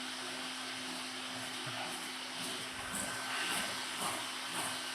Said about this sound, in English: and we're going to pull the steam trigger.